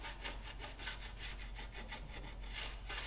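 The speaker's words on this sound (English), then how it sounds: "we can file the inside of the holes gently, yeah, to take any burrs off" A warding file works burrs out of the inside of drilled holes, giving a steady run of close, rhythmic rasping strokes with no talking.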